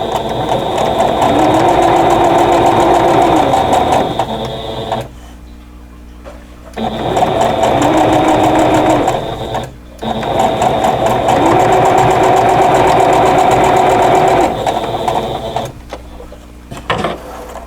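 A sewing machine stitches quilt block seams in three long, loud, rapid whirring runs, each split by a short quiet pause, then a final brief burst of stitching. No one speaks.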